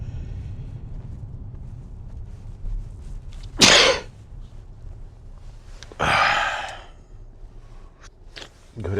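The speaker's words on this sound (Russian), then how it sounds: "Говорят, чихнул, значит, правду сказал." A man with a runny nose sneezes twice, each a sharp loud burst a couple of seconds apart, against faint room noise.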